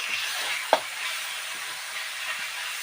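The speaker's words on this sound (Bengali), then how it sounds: "দেখো বন্ধুরা মশলাগুলো খুব সুন্দর ভাজা হয়ে গেছে কষানো হয়ে গেছে" Spices sizzling and frying in a pan for spicy ghugni made with matar and ginger leaves, a steady close hiss with one sharp clink of a spoon against the pan while stirring.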